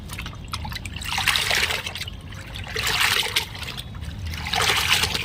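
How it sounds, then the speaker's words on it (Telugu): Water trickles and splashes as cotton nighties are washed, rising and falling in three soft surges of gurgling liquid, close by with no talking. "మరి ఆ వాటర్లోనే వాష్ చేస్తున్నాను"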